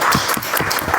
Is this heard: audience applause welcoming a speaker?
yes